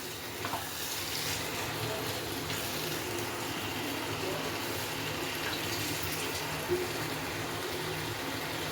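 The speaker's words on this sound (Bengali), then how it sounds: "বাটিটা ধুয়ে নিলাম ধুয়ে জলটা দিচ্ছি" Water from a rinsed bowl poured into a pot of spicy chicken kosha, a continuous close splashing gush running steadily from start to finish with no talk.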